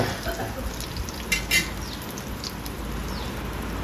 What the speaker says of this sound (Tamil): அந்த பூண்டை இடித்து சேர்த்துக்கலாங்க. சேர்த்து நல்லா வதக்கலாங்க.